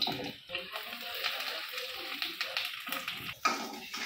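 Eggs frying in a pan in a home kitchen give a steady close sizzle and crackle, with a few brief knocks and utensil sounds scattered through it and no talking.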